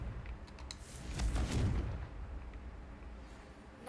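A Confringo fire spell explodes in the Hogwarts Legacy video game, a single deep boom swelling in the middle and fading into a rumbling tail, fairly quiet overall.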